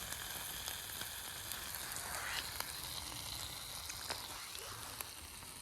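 Steak sizzles and crackles in a pan over a camp stove outdoors in the mountains, a close, continuous frying hiss dotted with sharp little pops.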